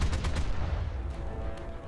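Schräge Musik upward-firing guns on a World War II aircraft in the War Thunder game fire a short rapid burst of loud rattling shots that quickly fades into engine rumble.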